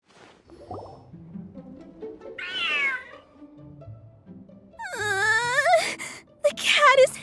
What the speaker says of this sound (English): The cat is hissing at me, Miss Rosaria!